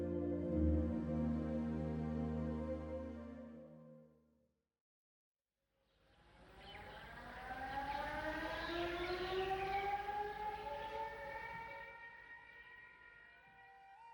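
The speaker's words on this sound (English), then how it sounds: "a siren resounds throughout the Dera, calling the disciples to wake up for their morning meditation" A wake-up siren sounds at 3 in the morning across the RSSB Dera, a spiritual settlement, a long loud wail that cuts off, then after a short silence a second wail rises and swells steadily from a distance.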